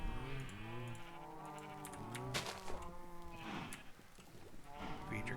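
Cows in the Minecraft video game moo repeatedly in overlapping calls, close and fairly loud, with faint clicking like keyboard typing underneath.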